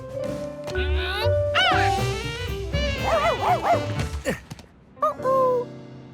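A cartoon dog barks and yips in short, lively bursts amid bright musical tones and sound effects, loud and close, with some whimpering pitch slides between barks.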